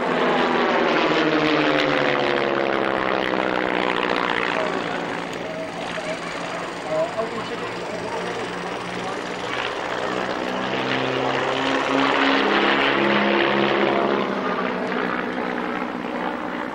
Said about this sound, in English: 2 little aeroplanes from 1934. Still being flown in the role for which they were designed.